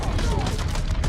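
A fast burst of gunfire from the video game Mafia 3 rattles over about a second as a dense, rapid run of loud shots layered under dull booms.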